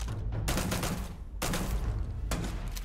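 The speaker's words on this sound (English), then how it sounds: "Sprayed bullets around him." Dense bursts of automatic gunfire spray from a weapon in a first-person shooter video game, coming as three loud sustained volleys with brief gaps between them and no talk over them.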